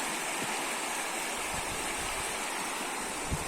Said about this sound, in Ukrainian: Річка грязна тут.